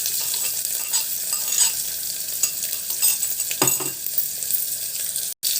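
Cumin, mustard seeds, fenugreek, curry leaves, onion and garlic fry in hot oil in a pan, a dense close sizzle with repeated stirring scrapes and a sharp clatter near the end, no talking.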